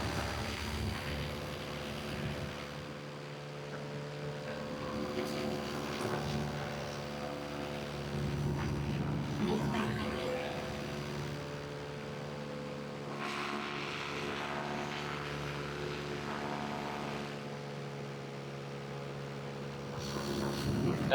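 An electric paramotor in flight, its propeller and motor giving a steady droning whine with rushing wind noise throughout, fairly loud and alone with no voices.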